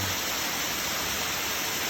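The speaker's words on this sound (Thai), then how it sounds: "นี่แหละน้ำตกวัดถ้ำผาเด่น" Steady, dense rushing of water fills the whole clip at the Wat Tham Pha Daen waterfall in Thailand, a constant close roar with no pauses and no voices.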